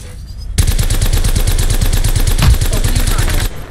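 Sustained automatic gunfire in Apex Legends, a loud, dense run of rapid shots lasting about three seconds after a brief quiet lead-in, with one heavier burst near the end.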